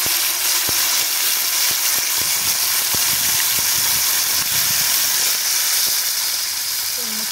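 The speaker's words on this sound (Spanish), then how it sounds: "Ya las vamos a sacar para empezar a freír las alitas." Marinated spicy chicken wings frying in hot oil make a loud, constant hiss and crackle that fills the whole stretch, with a few sharper pops and faint clicks scattered through it.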